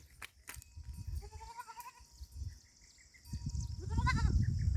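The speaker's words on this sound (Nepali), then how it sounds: "बाख्रा है काकै यही छ, चर्छ।" Goats on a village farm in Nepal bleat several times, quavering calls rising and falling over a quiet outdoor background with some handling noise and rustle nearby.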